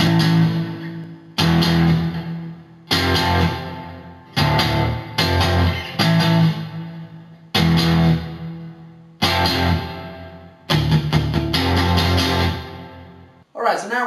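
The second guitar part of a song: a dense, full-sounding guitar playing chopped chord bursts separated by short gaps, fairly loud and alone.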